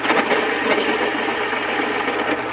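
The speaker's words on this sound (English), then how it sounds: "you can just use any electric pencil sharpener. I use the X-Acto right there." An X-Acto School Pro electric pencil sharpener grinds a Caran d'Ache pastel pencil, a loud steady motorized whirring buzz running unbroken, close by and alone.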